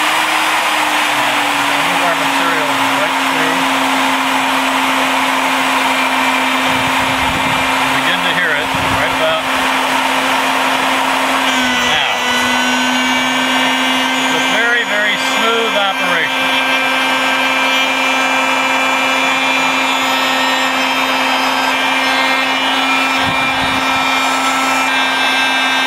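An Alfra KFT500 beveler runs at about 16,500 RPM while deburring, a loud continuous high-pitched whine with brief dips and rough grinding bursts as the cutter bites the edge, with a voice talking over it.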